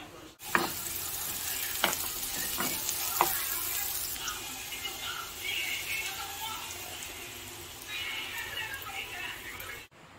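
Bitter gourd is added to a hot pan and stirred, with a steady hiss of frying and a few sharp clicks of the utensil early on, close and moderately loud.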